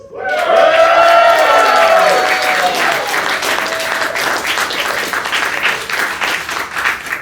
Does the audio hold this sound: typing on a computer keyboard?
no